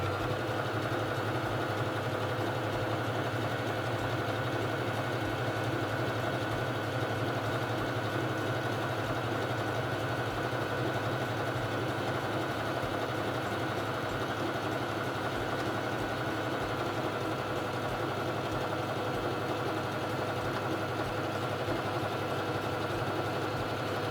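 SINGER Fashion Mate 3333 sewing machine stitching a feather stitch, a steady continuous mechanical hum and rapid needle rattle running without pause at a moderate level.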